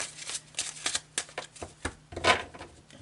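A deck of Marseille tarot cards is shuffled by hand in a quiet room, with a quick series of soft riffling flicks and taps, close but faint.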